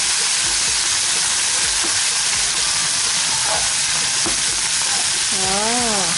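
Water spinach is stir-fried in a hot pan, giving a loud, steady sizzle and hiss of frying with stirring scrapes, close up and without any talk over it.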